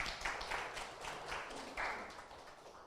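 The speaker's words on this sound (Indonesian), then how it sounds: "Tepuk tangan untuk Yesus" A congregation at a church worship service applauds, a dense wash of hand claps rising and falling in waves at moderate distance, with no voices over it.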